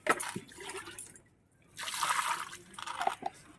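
Fresh coriander leaves being rinsed under running water for dhaniya chicken: two bursts of splashing, trickling water, the second longer and steadier, with light drips between and no talk.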